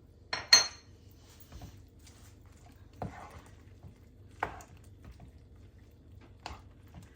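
A spoon stirs roasted pepper pickle mixed with coarsely chopped parsley, giving a few scattered clinks and scrapes against the bowl over a quiet background.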